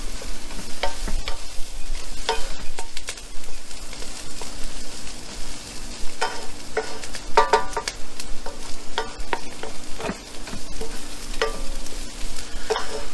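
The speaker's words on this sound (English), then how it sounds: "After you get this in here, stirred in here pretty good" Shrimp étouffée base with thyme cooks in a pot, stirred with repeated scraping and clinking strokes over a low simmering sizzle, fairly close and loud; no voices.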